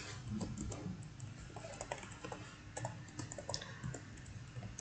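Rapid, uneven clicking of keys on a computer keyboard as Java code is typed, steady bursts of close keystrokes with no voice.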